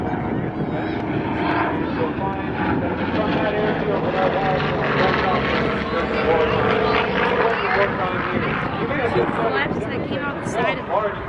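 A warbird propeller plane flies over the beach at an airshow, its engine drone loud and sustained throughout, with an announcer's voice talking over it.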